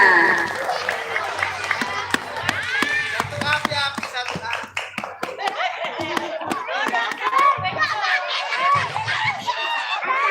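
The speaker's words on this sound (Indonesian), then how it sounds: "Beri tepuk tangan untuk adik kita Kiandra." Audience clapping for a young child competitor at an elementary school Islamic preaching contest, scattered claps ringing out under a talking announcer and crowd murmur through most of the stretch.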